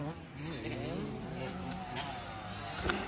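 A motorcycle engine accelerates at a riding training camp in Spain, its rising whine sweeping upward at moderate distance while an instructor's voice calls out over it, with a short burst near the end.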